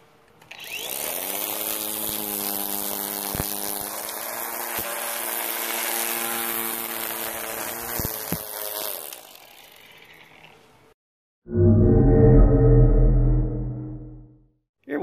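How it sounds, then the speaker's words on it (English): A battery-operated weed eater with a rotating shaft runs as a steady electric whine for about nine seconds, then cuts out; after a short pause a louder, lower burst of motor noise follows for a few seconds. "Okay, let's say we need to do some trimming now."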